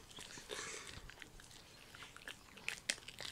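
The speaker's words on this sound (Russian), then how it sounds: "Так чавкает." A Pekingese dog gnaws rib bones, with quiet wet chewing and a few sharp close crunches near the end.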